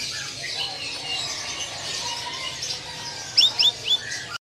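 In a bird shop, a pentet kembang shrike gives a quick run of four sharp, high chirps near the end, over a low murmur of shop background noise.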